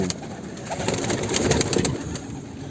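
Pigeons coo steadily in a coop with broken-crest Baska birds among them, a close, continuous chorus of soft throaty calls with some shuffling throughout.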